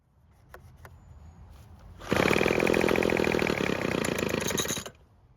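A Craftsman leaf blower's small two-stroke engine that won't start kicks in after a couple of faint pulls, running loud and raspy for about three seconds, then cutting out abruptly.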